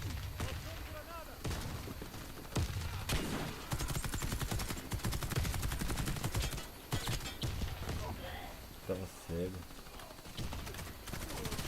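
Gunfire in the shooter Warface comes in rapid automatic bursts mixed with single shots and game effects, moderately loud, while someone talks excitedly over the action.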